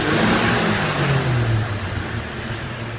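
A 1961 Chevy truck engine runs at idle without throttle, making a loud, steady mid-pitched hum with a slight revving swell early on, alone with no talking.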